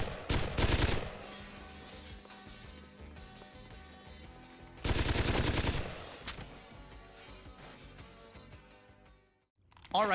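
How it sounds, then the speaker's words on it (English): Enemy Dane fires at the player in Saints Row, with loud bursts of gunshots near the start and again around the middle, separated by quieter game sound and ambience. "He kind of just does nothing and just stands there shooting at us."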